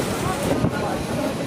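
Strong wind atop Puri lighthouse on the Odisha coast, a dense roaring buffet against the microphone with sea noise beneath, steady and loud through a brief moment, with a voice faintly mixed in.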